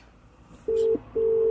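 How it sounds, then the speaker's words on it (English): A phone call rings through a Chevrolet car stereo's Bluetooth link, two loud steady electronic ring tones separated by a short gap, sounding alone. "I can dial from here any number and ring."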